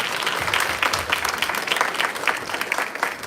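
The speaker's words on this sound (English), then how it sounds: "Please give him a big round of applause." Sustained applause from an audience at a live satsang gathering, dense steady clapping filling the whole stretch with a crowd murmur beneath.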